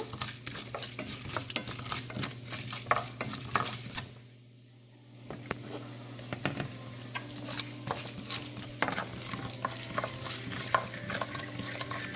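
Fennel seeds with urad and chana dal fry in hot oil for spicy prawns, giving continuous crackling sizzle with stirring scrapes and clicks, a short lull near the middle, then steady frying resumes.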